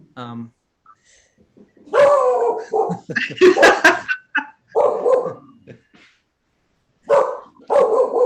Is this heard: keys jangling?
no